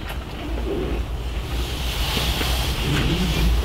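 Wind gusting by the sea, a loud continuous blustery rush with heavy low rumble buffeting the microphone, surf churning underneath, no voices.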